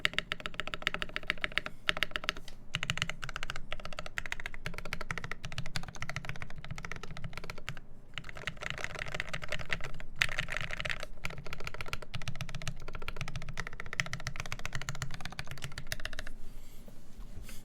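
Fast continuous typing on a KBD8X MKII mechanical keyboard fitted with Tealios switches, modded and not rattling: dense, close clacking keystrokes with occasional deeper spacebar thocks and brief pauses, no talk.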